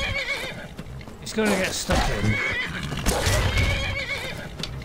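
A horse in the video game Skyrim neighs and whinnies several times, loud and close, over someone talking throughout, with some hoof clopping and game combat noise mixed in.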